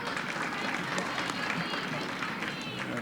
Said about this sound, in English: And Colleen gets a round of applause.